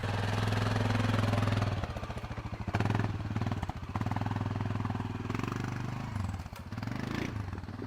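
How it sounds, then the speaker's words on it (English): A four-wheeler ATV engine runs loud and close on an off-grid remote cabin site, a steady low idle rumble shifting into uneven revving and chugging pulses as the machine is driven. "Dad learns to drive his four-wheeler."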